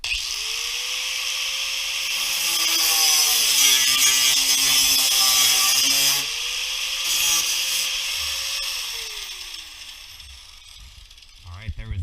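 A grinder works on metal on a Crown Victoria being fitted with 31-inch tires, a loud sustained whine that drops in pitch under load, eases off, then spins back up before cutting out, with some talk at the very end.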